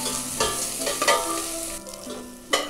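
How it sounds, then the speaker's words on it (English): Onions frying in a pan for a vegetable mushroom biryani, a close continuous sizzle broken by several stirring scrapes and clatters. "Now the onions are slightly turning golden color."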